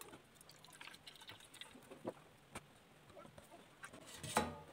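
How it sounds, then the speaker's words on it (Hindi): Water is poured off settled potato starch from a glass, giving a faint, close trickle and dribble with a few small splashes and drips rising toward the end. "तो पानी इसका निकालते हैं और स्टार्च को अलग करते हैं।"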